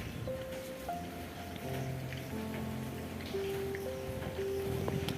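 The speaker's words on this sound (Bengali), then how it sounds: "এরপর এটিকে তেলে ছেড়ে দিব" An egg-battered slice of bread fries in hot oil, giving a faint, steady crackling sizzle with scattered pops, heard alone without talk.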